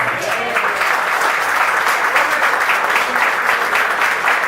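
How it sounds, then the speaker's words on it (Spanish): A church congregation breaks into loud, sustained applause, a dense crowd of hands clapping evenly throughout without pause. "Dale un fuerte aplauso al Señor."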